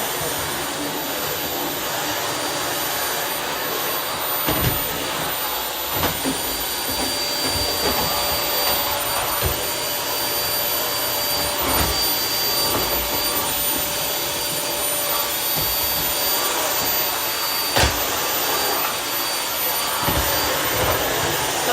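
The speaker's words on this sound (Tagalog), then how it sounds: "ang aking vacuum" A vacuum cleaner runs continuously for over twenty seconds, a loud, close, steady whooshing roar with occasional small knocks and no talking.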